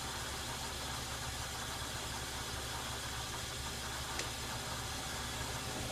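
A metal lathe making a spring pass with a high-speed steel bit while cutting a spindle guard nut, heard as a faint, steady machine hum and whir with one brief tick near the end, distant and unvarying.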